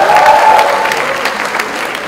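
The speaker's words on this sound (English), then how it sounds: "So big hi, big applause for yourselves," An audience applauds itself at the inauguration ceremony of an edutainment show, a loud, close, continuous wash of clapping that fills the whole moment without a break.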